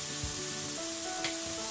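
A burger patty sizzles steadily in a hot pan, a continuous close frying hiss with faint crackles and no voices, cooking for croissant burgers.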